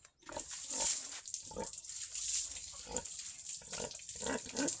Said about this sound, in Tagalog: Paligo din sa aking mga alagang inahing baboy.